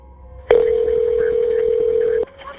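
A telephone keypad tone during a recorded 911 emergency call made on a cell phone, heard as one loud, steady electronic tone that starts abruptly, holds for almost two seconds, then cuts off.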